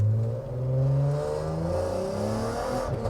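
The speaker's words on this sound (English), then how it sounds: "So let's see what that exhaust sounds like, shall we?" Loud exhaust of an Audi TT Mk1 3.2 drones and rises as the engine revs while driving, with a deep throaty rumble that stays steady throughout.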